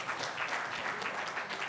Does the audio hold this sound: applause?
yes